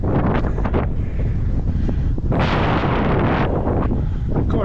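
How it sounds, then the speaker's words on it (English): Strong gusts on an exposed hilltop common by a radio mast buffet the microphone, making loud, continuous roaring rumble with surging bursts throughout. "God, it is windy."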